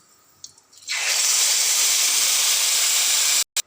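Hot tempering of curry leaves and dried red chillies is poured into cooked moong dal with greens, bursting into a loud, sustained hissing sizzle that cuts off abruptly after a few seconds.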